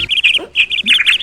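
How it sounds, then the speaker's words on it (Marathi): Birds chirp in quick, bright bursts by the Konkan sea in the rain, several high tweets close together and fairly loud, with short pauses between calls. "पक्ष्यांचो किलबिलाट"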